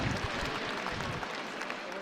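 Crowd at a high school hockey game applauding in an arena, a faint, steady wash of clapping heard at a distance with a little crowd noise beneath it.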